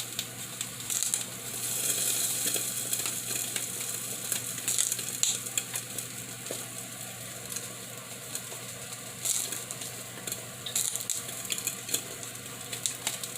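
Eggs fry under a lid in a pan alongside corned beef hash, giving a steady soft sizzle and crackle with occasional faint scrapes and clinks, close and fairly quiet with no talking.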